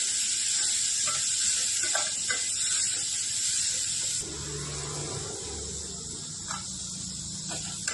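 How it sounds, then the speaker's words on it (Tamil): Onions sautéing in a pan for a carrot and beetroot poriyal, giving a steady bright sizzle and hiss throughout with a few soft stirring scrapes, the sizzle easing slightly partway through. "இந்த வெங்காயம் நல்லா கண்ணாடி பதம் வர வரைக்கும் நல்லா நம்ம வந்து வதக்கிக்கலாங்க"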